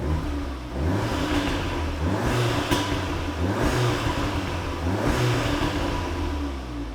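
Audi S3 8V with a straight-pipe exhaust, valves closed, revved repeatedly: rising and falling engine roars in a steady rhythm, close and loud, with no voices.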